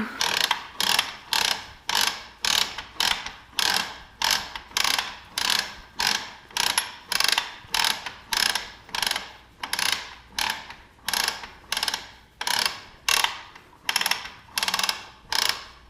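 A quilting frame's ratchet clicks steadily as backing fabric is rolled onto the bar, giving a loud, close, rhythmic run of roughly thirty short pawl clatters, about two per second, with no voices.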